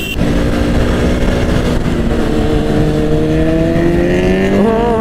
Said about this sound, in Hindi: बैक फायर एक नंबर फेंक रही है बाइक भाई